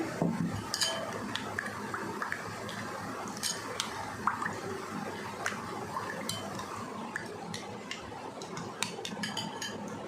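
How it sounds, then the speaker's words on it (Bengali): Water is swirled and stirred in a small sauce bowl with a spoon, giving soft wet squishing and dripping close by, broken by frequent light clinks of metal against the dish. "একটু জল দেব সসের বাটিটা ধুয়ে।"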